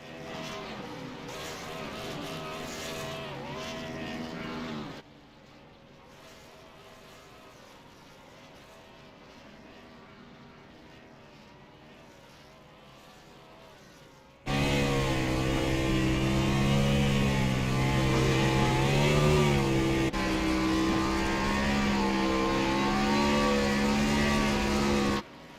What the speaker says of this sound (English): Let's listen to this awesome burnout.